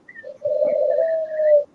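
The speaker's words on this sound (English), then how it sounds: "That's the doves." A dove cooing close by, one short note followed by a long, steady drawn-out coo, alone in a quiet setting.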